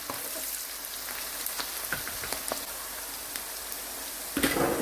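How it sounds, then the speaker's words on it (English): Onions stir-frying in vegetable oil for a vegetable soup, a steady close crackle and spatter with scattered sharp pops, growing louder and busier near the end, with no voices. "So I'm just going to stir fry the onions for a while."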